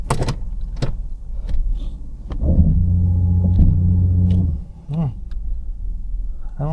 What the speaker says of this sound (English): Seems to rev okay.